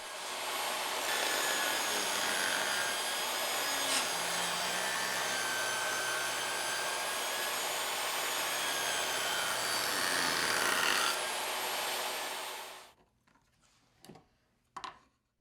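A power saw rips wooden shelf side and shelf pieces to final width, a steady loud whine running unbroken for about thirteen seconds before cutting off, followed by a few brief knocks and clatters.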